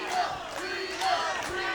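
A wrestling crowd at the Bunkhouse Stampede event chants together, a loud, close, rhythmic mass of voices rising and falling in repeated swells with no separate talk over it.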